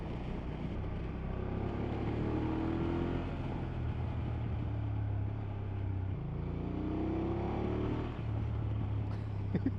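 A 2024 BMW F800 GS motorcycle pulls hard in third gear from around 3,000 RPM, with a steady low engine drone and rising tones heard from the rider's position, a dip near the middle, under constant wind noise.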